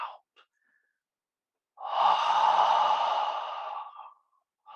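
A single long, soft breath out during a qigong stretching exercise, close and clear, lasting about two seconds after a brief quiet pause, with faint breath sounds at the edges.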